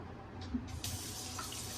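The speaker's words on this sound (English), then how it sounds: "Rinse that off with hot water." Hot water runs from a kitchen tap in a steady, faint rush, alone, while something is rinsed off.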